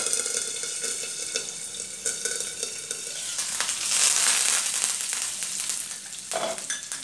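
Cumin, mustard seeds and curry leaves sizzling in hot oil for dhokla tempering, a close, steady hiss that swells loudly as the leaves hit the oil, with scattered crackles and pops and no talking.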